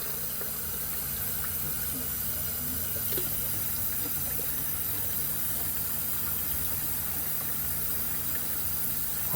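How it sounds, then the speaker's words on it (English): Tap running steadily into a sink while pork bung is rinsed in a kitchen, a constant hissing water flow at moderate level. "And then run water."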